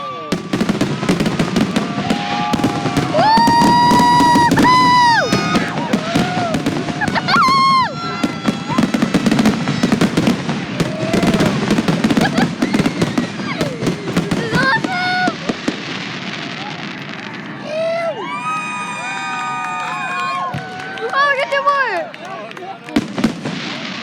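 A rapid-fire fireworks display crackles and pops in dense bursts, with whistling rising shells streaking upward between explosions and a crowd and excited voices talking throughout.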